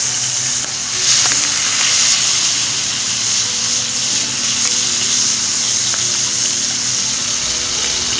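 Venison frying in grease in a pan over a cooking fire, giving a loud, steady sizzle with a constant bubbling hiss throughout and no voices.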